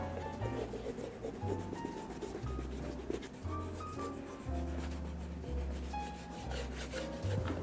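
Cream is rubbed by hand into the aged leather upper of a handmade, hand-stitched U-tip derby shoe: soft, steady close-up friction strokes, heard over a background of music.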